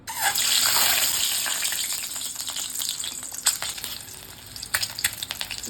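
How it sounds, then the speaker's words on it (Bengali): An egg dropped into hot oil in a wok bursts into a loud hiss that gradually settles into a steady sizzle, broken by scattered crackles and spatters. "আমি এখন ডিমটা ভেজে নেব।"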